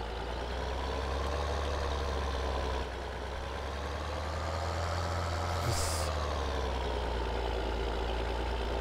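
A heavy grain truck rumbles steadily in Landwirtschafts Simulator 2013, a continuous low engine drone with a brief hiss like an air brake partway through, no talking.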